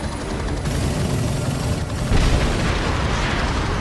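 Continuous heavy gunfire and booming explosions from Call of Duty Modern Warfare 2 Remastered campaign, a dense loud barrage of rumbling blasts and bursts with no talking.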